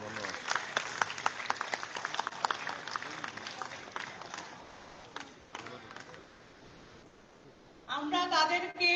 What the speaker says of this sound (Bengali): একটু করতালি দিই আমরা।